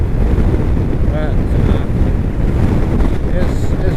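Strong gusty wind funnels down off the hills into a valley, roaring loudly and continuously across the microphone as a dense buffeting rush, with faint voice-like sounds showing briefly.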